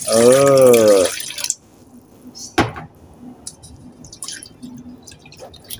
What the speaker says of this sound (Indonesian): tambahin lagi air ya teman-teman ya. Sekalian cuci ini.